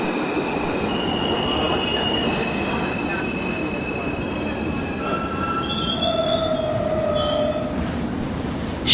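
A train pulls into a small station and brakes to a stop, its wheels squealing in long, high, sustained tones over a continuous low rumble of rolling rail cars, close and loud, with a sharp bump at the very end.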